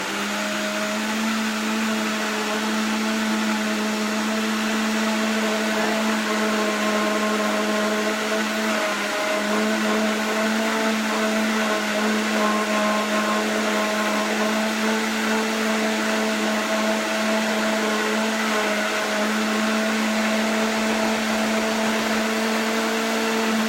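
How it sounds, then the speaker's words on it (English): A Vitamix blender runs at speed, mixing a gluten-free donut batter with a loud, steady motor whine and whirring hum that holds unbroken throughout, with no voices. "letting the blender do the rest here. Tap, tap, tap. Let's bring the speed up."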